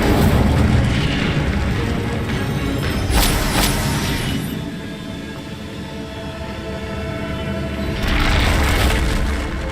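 The Incendio fire spell cast in the Hogwarts Legacy video game: a loud, roaring whoosh of flame that surges, eases slightly, then swells again near the end.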